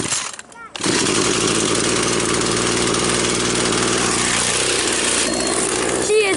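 A chainsaw's small two-stroke engine runs steadily and loudly after a brief sputter, droning on with a rough, buzzing idle throughout.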